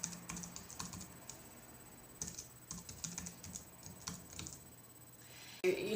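Rapid, steady keystrokes clatter on a computer keyboard as email addresses are entered, close and continuous with small pauses, ending in a sharper click.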